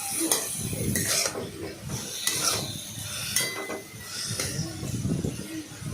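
Kudri (ivy gourd) curry with turmeric stirred in a pan, a spoon scraping and clinking against the metal in repeated strokes over a soft sizzle, close and fairly loud with short pauses between stirs.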